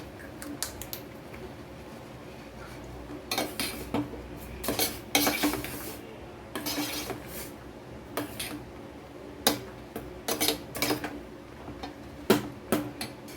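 A spoon stirs kesari with orange colour in a pan on a slowed stove, giving scattered clinks and scrapes against the metal in irregular bursts, moderately close and alone.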